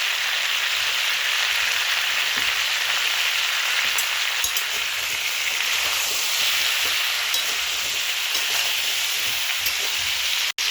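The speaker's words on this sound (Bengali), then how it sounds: "ফুলকপিগুলো ভাজা হয়ে গেছে" Cauliflower florets fry in a wok of hot oil seasoned with salt and turmeric, giving a steady, close sizzle with faint crackles and an occasional stir, no voices.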